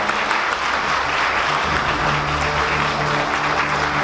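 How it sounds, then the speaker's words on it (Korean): A crowd at a university economics department sponsors' evening applauds warmly during an award plaque presentation, the clapping loud, dense and sustained without pause throughout. "뜨거운 박수 부탁드립니다."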